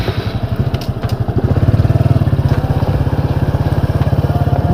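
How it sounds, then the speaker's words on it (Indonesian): Motorcycle engine running close and loud in an outdoor setting near a lake, a rapid steady throbbing pulse that builds after the first second and holds evenly. "Ini saya menggunakan motor"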